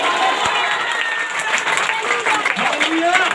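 Congregation clapping during a Hindi-language church sermon, a busy crowd-like wash of claps blended with murmuring voices and cries rising through it.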